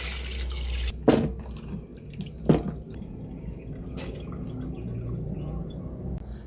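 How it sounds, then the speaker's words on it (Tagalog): Running water pours over peeled watermelon seeds being washed at a sink, with a steady flow, a couple of sharp splashes or clunks, and nearby dripping. "atin na pong hugasan"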